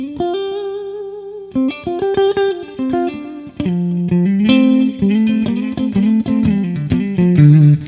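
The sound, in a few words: Boss Digital Delay guitar pedal, long echoey delay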